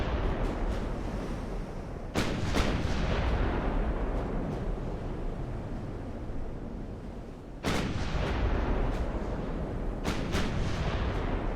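Heavy cruiser 11-inch naval guns boom in Ultimate Admiral: Dreadnoughts, each deep blast rolling over a constant roar of sea and engine noise, with several shots spaced seconds apart.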